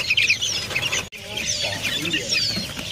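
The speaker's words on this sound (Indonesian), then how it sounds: "Di sini juga ada nih burung" Young songbirds chirp and cheep at a bird market kiosk, a dense stream of close, busy high twittering with several overlapping calls over low background noise and a brief drop in the middle.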